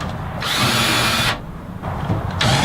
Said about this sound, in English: I'm pre-drilling first,